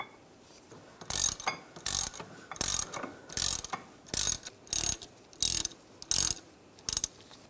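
A ratchet clicks in about nine short, evenly spaced bursts while tightening caliper bracket bolts on a 2001–2006 BMW 325Xi, close and clear against a quiet background.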